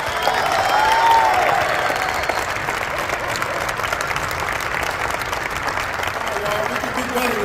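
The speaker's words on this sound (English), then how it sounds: "Clap for him like you like him, not like you mad at him." An audience applauds at a football coach's press conference for Alabama A&M, a steady, dense wash of clapping that holds at an even level for the whole span with no talk over it.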